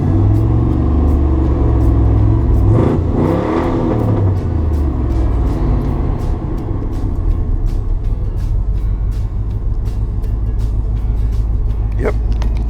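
A 1975 Jeep Cherokee Chief engine drones steadily while driving, a low, continuous rumble with a brief swell of revving early on and road noise throughout.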